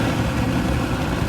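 A DIY mini turbojet engine runs at a steady, dense roar close by, a continuous broadband rush with no distinct breaks and no voices.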